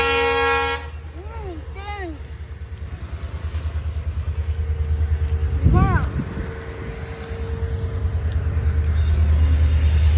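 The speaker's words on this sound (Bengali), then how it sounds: "কি সুন্দর নজারা, ট্রেন যাচ্ছে, ট্রেন যাচ্ছে, ট্রেন" A train rolls past with a continuous low rumble that swells and fades, broken by several short horn toots.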